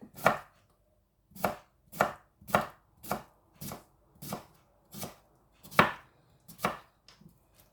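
Knife slicing fruit on a cutting board for detox water, about ten crisp, evenly spaced chops heard close and alone with quiet pauses between.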